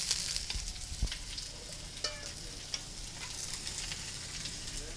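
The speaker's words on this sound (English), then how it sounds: "You hear the sizzling?" Meat placed face down in hot frying oil sizzles steadily for the whole stretch, with a few sharp utensil clinks and scrapes standing out on top of the hiss.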